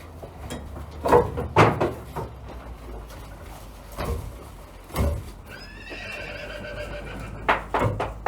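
A horse on box rest whinnies and neighs in a stable, with a few loud calls spread through the stretch, a longer drawn-out neigh near the end and a muffled thud or hoof knock.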